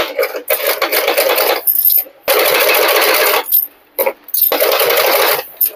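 A sewing machine stitches a blouse in rapid mechanical bursts, several runs separated by short pauses, loud and close, with no voices.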